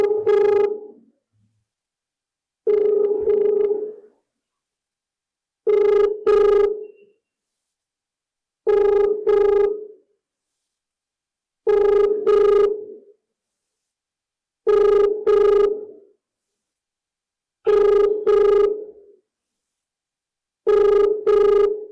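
An outgoing phone call rings a brother's number: a loud, close ringback tone in regular double bursts, about eight cycles separated by short silences, with no voices.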